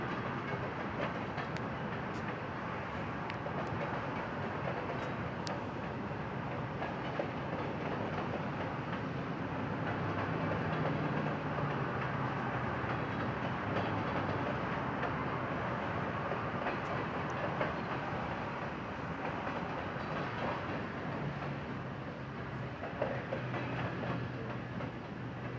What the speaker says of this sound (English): Another big long freight train going by.